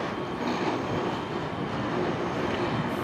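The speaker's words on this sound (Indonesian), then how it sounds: "Wih keren guys, ada kereta guys." A Japanese-made train passes nearby, a steady loud broadband rumble and rolling roar with no distinct horn, continuous for a few seconds with no talking.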